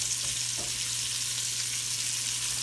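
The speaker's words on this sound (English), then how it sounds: "First thing I'm gonna do, put my onions in here." Onions fry in a pot, a continuous crackling sizzle heard close and evenly, with a faint tap of a spoon near the start over a low steady hum.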